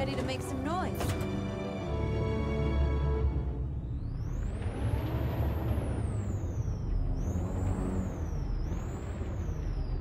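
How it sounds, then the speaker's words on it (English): Video game truck from Detroit: Become Human rumbles with a loud engine drone and a sharp air-brake hiss, followed by rising mechanical whines as it gets moving, while a person talks over it. "I get to drive the truck!"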